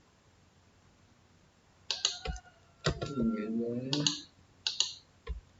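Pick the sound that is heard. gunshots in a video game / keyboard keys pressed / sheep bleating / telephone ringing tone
keyboard keys pressed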